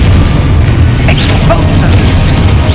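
Confringo fire spell blasts in the Hogwarts Legacy video game on Xbox Series S, heavy booming explosions over a dense rumbling low-end, with sharp crackling bursts near 1.5 and 2 seconds, loud and continuous.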